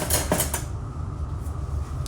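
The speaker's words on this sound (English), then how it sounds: "We'll give that a stir up." Metal flake paint mixed two to one with ten percent reducer is stirred in a container, giving a few quick scraping and clinking knocks at the start, then a steady low rumble, close and fairly loud with no voices.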